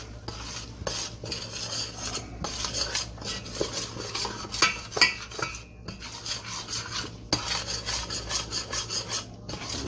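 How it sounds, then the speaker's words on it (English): Jamaican-style curry chicken stirred steadily in a pot, with continuous rasping, scraping strokes of a utensil against the pot bottom and occasional clinks, close and loud, no talking. "Constantly stirring, because you don't want it to stick"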